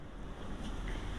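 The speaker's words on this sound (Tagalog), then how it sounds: "mahangin sa labas guys." Wind gusts outside a home, a brief, rough, buffeting roar with microphone wind noise, fairly loud and continuous throughout, with no voices.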